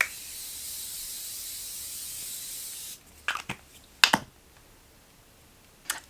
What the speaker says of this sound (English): Now I'm going to pop on a little bit of a setting spray just to further lock that in.